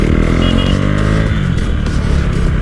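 Motorbikes and other traffic on a busy road, a loud, steady engine roar with rising and falling revs as vehicles pass close by, no talk.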